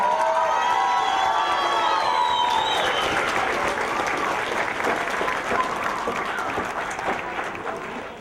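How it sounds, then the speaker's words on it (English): A crowd at an adult education GED graduation ceremony claps loudly and continuously, with cheers and shouts rising over the applause at first before it gradually fades. "Please give these hard-working GED graduates a big round of applause."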